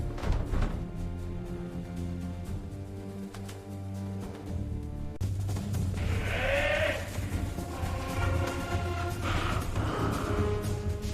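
Sheep bleat in a cartoon farm scene, a couple of wavering, nasal bleats rising over a soft background music bed, fairly close and clear with no talking.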